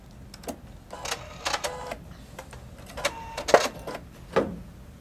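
A Pfaff Creative 3.0 sewing machine runs a decorative lock stitch in short bursts of mechanical clatter, several stop-start runs close by with faint pauses between, no voices.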